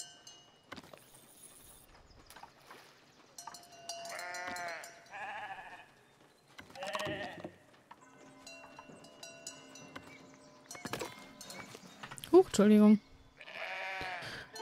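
Sheep bleat on a flower meadow in the video game Foundation, several short wavering calls spread across the scene, moderately near, with quiet background game sounds and a brief spoken word.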